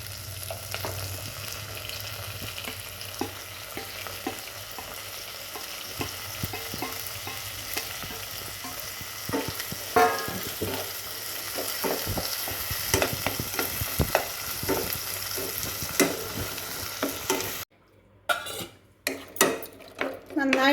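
Onions sautéing in a pan for Kerala-style palak paneer, with a steady sizzle and repeated scraping clinks of a spoon stirring against the pan, briefly cutting out near the end.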